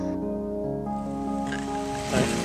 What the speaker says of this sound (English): This is the sound of water moving